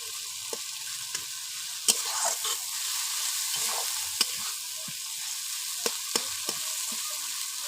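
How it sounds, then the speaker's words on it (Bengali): Spice masala sizzling and frying in a pan for a rupchanda (pomfret) fish curry, a steady soft crackle with occasional sharp clinks of a stirring spoon against the pan, close and alone without talk. "এই দেখুন মশলাটা কষা হয়ে গেছে"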